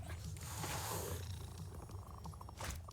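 A cat purrs in a steady low rumble that runs the whole stretch, loud and close, with brighter hiss-like bursts near the start and end. It is tied to an MTG Arena match.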